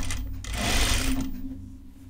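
A sewing machine stitches fabric for a tunic in a short burst of rapid needle running that swells and then slows, with faint mechanical hum before and after.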